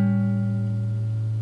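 A guitar sounds a six-string dominant seventh shell chord, a single sustained strum ringing steadily and close with clear harmonic tones.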